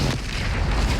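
A deep, rumbling Bombarda blasting spell explosion from the video game Hogwarts Legacy, one loud, heavy boom that fills the whole second with a sustained roaring burst.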